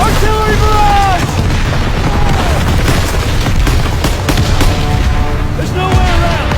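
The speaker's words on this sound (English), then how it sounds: "Artillery barrage!" Artillery barrage in a Call of Duty WWII battle at the Hürtgen Forest: loud, continuous booming explosions and gunfire, with shouted voices and whistling shell sounds over dense rumbling.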